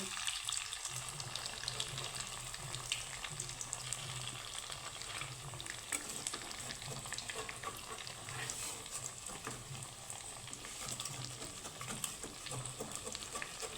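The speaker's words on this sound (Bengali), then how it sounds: "এইভাবে আমি সবগুলো লাল লাল করে ভেজে নেব" Poha snacks deep fry in oil, a constant bubbling sizzle with fine crackles throughout, fairly quiet and steady with a low hum underneath.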